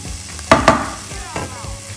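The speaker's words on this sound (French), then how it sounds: "Alors je laisse ma fricassée de champignons mijoter doucement" Mushroom fricassee with parsley and garlic simmering in a pan, heard as a soft sizzle with a couple of sharp utensil scrapes and stirring knocks close by.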